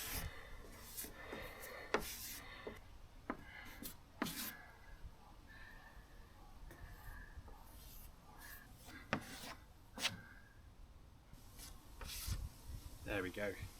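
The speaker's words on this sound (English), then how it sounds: "we just need to fill and then sand nice and smooth" Filler being sanded smooth on a wooden Mirror dinghy during repair, faint uneven rubbing and rasping strokes broken by occasional sharper scrapes and taps, quiet and close.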